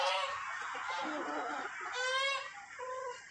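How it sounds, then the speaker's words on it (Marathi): Village chickens cluck and squawk at close range in a rainy rural yard, a burst of harsh, honking fowl calls layered over a person talking, rising in a loud cackle toward the middle. "काय कोंबड्या हो"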